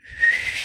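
A man whistles a single sustained, slightly wavering high note that swells up within a fraction of a second and holds steady, close and clear, with no talking.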